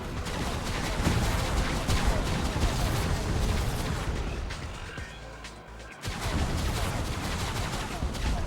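Rapid vehicle-mounted gunfire from SpyHunter 2 rattles almost without pause, loud and dense, dipping briefly near the middle before the firing resumes at full intensity.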